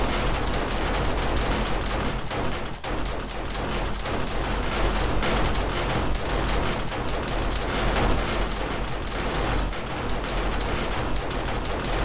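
An automated turret in the zombie survival game 7 Days to Die fires a steady, unbroken stream of rapid shots for over ten seconds, loud and dense with no pauses.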